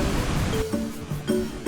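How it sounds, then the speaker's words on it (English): Roaring rush of the High Force waterfall, a steady broad wash of falling water close by, with no voices. "we visited the mighty High Force waterfall"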